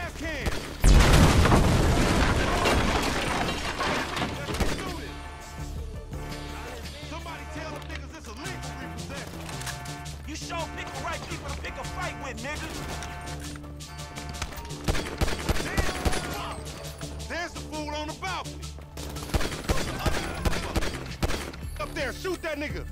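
Grand Theft Auto V combat: loud gunfire and a gas can explosion, with a big boom near the start, then dense bursts of shots and rattling fire that continue throughout under music and game noise.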